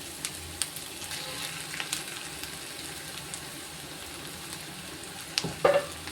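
Ground chicken frying in a pan with ginger and garlic for chicken samosa filling, with a steady soft sizzle, light stirring clicks and a louder scrape near the end, and no voices.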